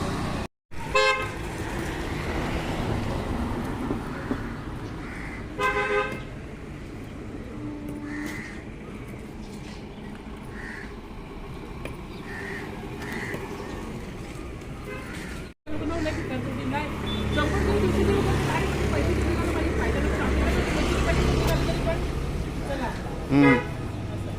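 Busy Dombivli street traffic full of auto rickshaws, with repeated short horn toots, engine rumble and crows cawing nearby, while someone talks over it and a brief break cuts the noise midway.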